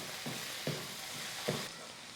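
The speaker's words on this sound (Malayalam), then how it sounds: "സവോള നന്നായിട്ട് വഴണ്ടിട്ടുണ്ട്." Sliced onions sautéing in a pan for chicken curry give off a steady soft sizzle, with a few short stirring scrapes breaking through the quiet frying hiss.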